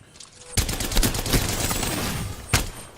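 Rapid automatic gunfire from a weapon in the video game Apex Legends, a loud sustained burst of closely spaced shots lasting about two seconds, followed by one more distinct shot near the end.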